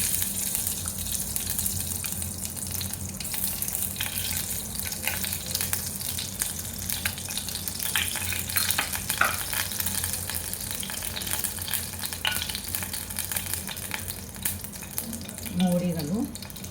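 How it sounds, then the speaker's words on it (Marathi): Ghee heating in a pan for the tempering of a sweet-sour-spicy Maharashtrian tomato saar, a steady even sizzle and crackle that runs throughout, close and continuous. "तुपाची फोडणी द्यायची म्हणजे छान टेस्ट येते. तूप घालू आपण फोडणीसाठी."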